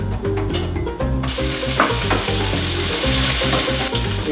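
Onions sizzle steadily in hot oil in a frying pan while an Ethiopian ful breakfast is being cooked, a loud close crackle with occasional stirring.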